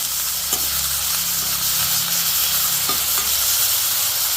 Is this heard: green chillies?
yes